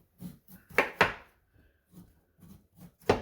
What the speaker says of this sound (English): I'm going to be showing us another shape of slicing your yam for frying